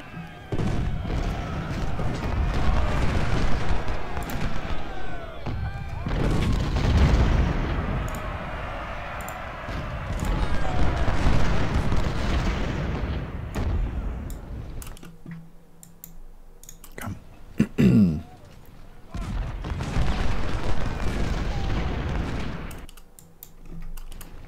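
Cannon artillery fires in a Civil War battle game, Ultimate General: Civil War, at Brandy Station, with repeated booming volleys and dense rumbling blasts rolling in long waves, then a quieter stretch broken by a few sharp reports.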